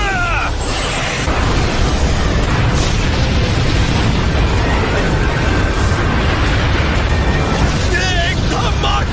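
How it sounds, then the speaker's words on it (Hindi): A continuous roaring blast from an anime battle in Naruto Shippuden, dense and loud throughout about nine seconds, with rumbling debris and whooshing layered effects rather than a single clean bang. "ये एक्सप्लोजन 10 किलोमीटर तक होगा।"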